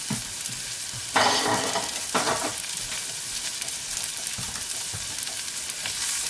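Chopped onion frying in a pan and stirred, a steady close sizzle with a few scraping stirs of the spoon over it, moderate in level and with no talk.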